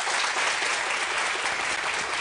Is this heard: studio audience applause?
yes